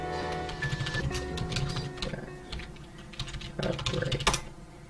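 Keys clatter on a computer keyboard in quick, uneven bursts of clicks as a Linux update command is typed on a Windows machine, close up and fairly quiet, with no voice.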